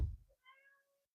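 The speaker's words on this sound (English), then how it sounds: "I had to let my cat out because she was meowing" A pet cat gives a single short, clear meow close to the microphone, preceded by a brief low thump, then silence.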